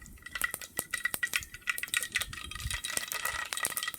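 A metal spoon stirs and scrapes in a cooking pot during outdoor cooking on an island in the Kutch sea: quick, irregular clinks and rattles sounding close and fairly loud, with no talk.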